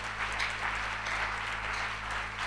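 Church congregation at a youth gathering applauding together, a dense, sustained wash of clapping from many hands, steady and moderately loud over a low electrical hum.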